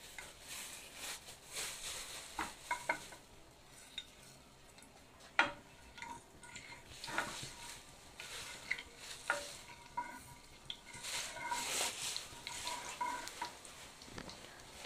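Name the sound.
cumin seeds frying in oil for paneer samosa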